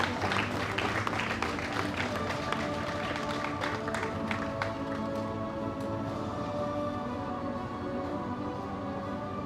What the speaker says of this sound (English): Round of applause to Nurse Dawn.